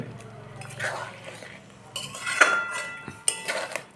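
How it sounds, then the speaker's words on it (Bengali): A metal spatula scrapes and clinks around a pan of country chicken chap cooking with ginger paste, in irregular close-up strokes that grow louder and sharper toward the end, with no talking. "ভালোভাবে নাড়াচাড়া করে নেওয়া হচ্ছে"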